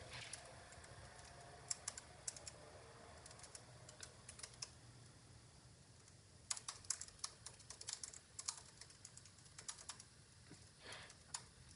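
Someone types on a computer keyboard in quick, irregular bursts of soft clicks, close and fairly quiet, with short pauses between runs of keystrokes and no talking.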